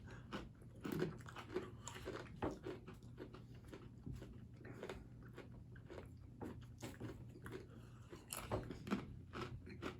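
Faint, close crunching bites and steady chewing of kimchi wheat soy crackers, a series of crisp irregular crunches over about ten seconds with no talking.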